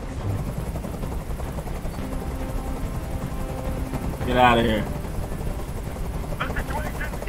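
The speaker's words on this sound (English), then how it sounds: "Tell that helicopter to get out of here." A helicopter in the video game Detroit: Become Human keeps up a steady, droning rotor noise throughout, with someone speaking briefly over it.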